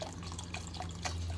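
Water poured into a pan of gravy mix for Salisbury steak with mushroom and onion gravy, a steady trickling splash held close over a low kitchen hum for about a second and a half.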